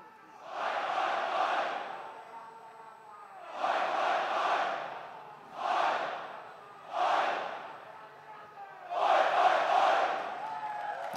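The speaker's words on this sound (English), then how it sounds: "And this crowd is feeling it right now." Esports crowd at the IEM Sydney CS:GO showmatch roars and cheers in five loud surging bursts, each swelling and fading, with a crowd murmur between them.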